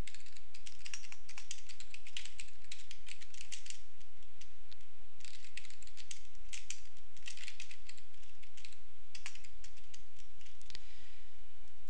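Rapid, continuous typing on a computer keyboard during patient data entry, a dense run of close, crisp key clicks in uneven bursts with brief pauses, heard alone without speech.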